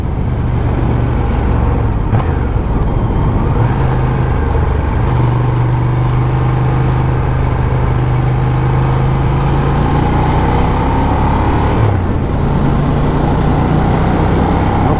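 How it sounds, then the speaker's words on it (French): Deep, loud engine note of a 2018 Ducati Diavel Carbon motorcycle, a continuous throaty exhaust rumble with steady low tones and a couple of brief shifts in pitch, heard without speech. "Et le retour de gaz qui est très sourd, très loud, j'adore."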